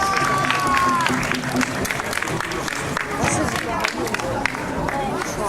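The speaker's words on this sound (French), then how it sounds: "On peut les applaudir également, ils arrivent." Crowd applause greets Consort Helveticus arriving on stage at a troubadour tournament in Gruyères, sustained clapping mixed with audience chatter and a speaking voice.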